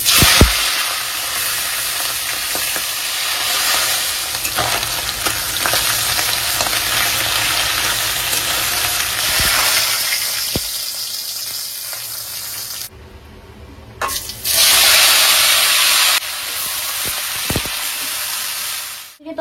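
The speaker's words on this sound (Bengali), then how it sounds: "তরকারিটা টকবক করে ফুটছে" Vegetable curry bubbling and sizzling in a pan on a home stove, a steady close crackle that dips briefly near the end before resuming.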